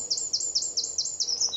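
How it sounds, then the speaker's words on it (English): A wren calls from high in a tree on a cold morning walk, a rapid series of about seven thin, high trilled notes repeated evenly, fairly faint and distant over quiet outdoor ambience. "I think the wren is actually quite high up in this tree."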